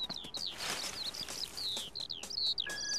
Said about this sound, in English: I don't see any birds. But I do hear one.